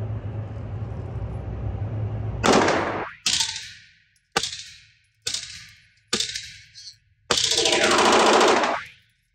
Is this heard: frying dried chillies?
no